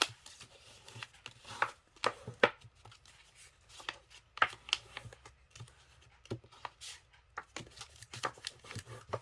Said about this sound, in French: Vous pouvez seulement tout marquer vos plis avec un plioir.